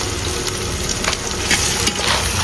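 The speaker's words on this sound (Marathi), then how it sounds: "कांदा मारायला घेतले" Onions frying in a pan for a chicken dish give a steady, close hiss and sizzle with faint stirring scrapes, continuous with no talk.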